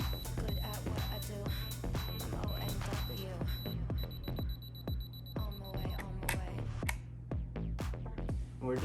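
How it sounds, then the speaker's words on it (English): Camera self-timer running a 10-second countdown, a regular series of sharp high beeps pulsing steadily over a low background hum, with a faster beep burst toward the end. "So I did set a 10-second timer."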